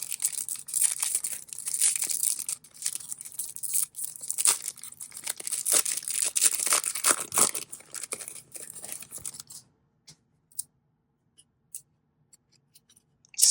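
Stuck baseball trading cards from a 2002 Upper Deck Ovation hobby box are peeled apart with close, crinkly rustling and tearing-like crackles for about nine seconds. Near silence and a few faint clicks follow.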